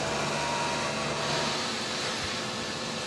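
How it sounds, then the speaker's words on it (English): The vacuum toilet system aboard an Airbus A380 airliner is evacuated, giving a steady, loud, broadband rushing hiss of air being pumped out of the rear waste tanks, unbroken for the whole stretch. "We will give you a short demonstration of a toilet flush on the A380."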